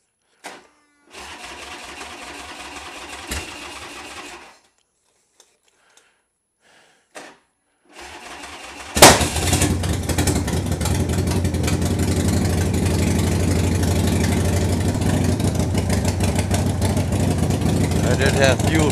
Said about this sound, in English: Taking the Softail out for a ride today.